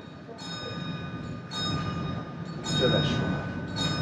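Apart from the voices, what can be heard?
Ferrovia Circumetnea train running around Etna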